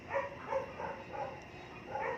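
A large female American bully barks in a quick, regular series of moderate, slightly distant woofs, about three per second, over a low background hum.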